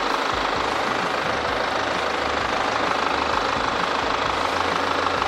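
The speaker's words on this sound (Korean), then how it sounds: "엔진 소리 일정하고 좋습니다" A BMW 620d diesel idles in its engine bay, a steady, even rumble with a dense low-end drone that holds constant and close throughout, with no talking over it.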